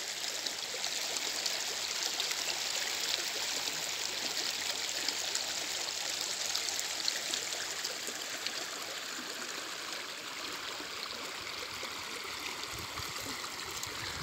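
The Koel river flows in steady rain, a continuous broadband rush of moving water that stays loud and even throughout with no voices.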